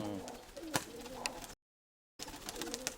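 Mykolaiv white pigeons in a loft giving soft, close cooing calls, briefly broken by a short dropout of silence.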